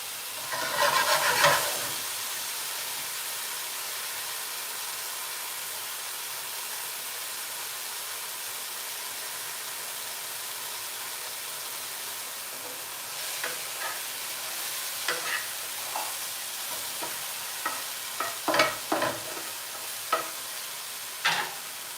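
Mushrooms frying in a pan give a steady, moderate sizzle throughout, with a loud scrape of stirring near the start and scattered clinks and stirring scrapes toward the end.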